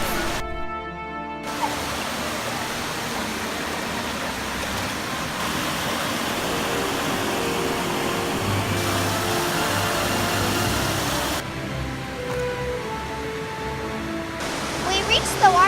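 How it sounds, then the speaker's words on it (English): A 100-foot waterfall pours down a huge limestone face at the end of a Big Sur hike, a loud, constant broadband roar that fills the whole stretch with only slight shifts in texture. "This is a 100-foot waterfall cascading down a huge limestone face."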